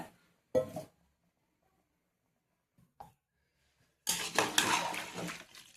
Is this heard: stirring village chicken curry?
yes